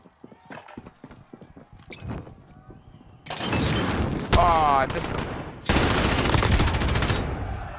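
Dense bursts of automatic gunfire from Call of Duty: Warzone hammer loudly and continuously after a stretch of quieter clicking and footsteps, with a brief voice cutting through the barrage.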